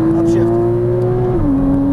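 A Porsche Cayman S engine holds a steady loud drone on track, then drops in pitch as an upshift goes through, close and continuous.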